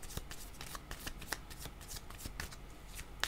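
Tarot-style cards being shuffled to draw another card, giving a run of quick papery riffles and soft slaps with a steady rhythm, close and fairly quiet, with no voice over it.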